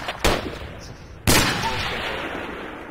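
Enemy tank cannon fire in the Project Reality video game, two sharp heavy blasts about a second apart, each trailing off into a rumbling decay.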